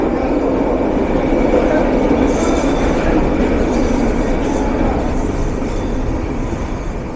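A train arrives at Waterfront Station in Vancouver, its wheels rumbling steadily and squealing in high metallic bursts, loud and close throughout the clip.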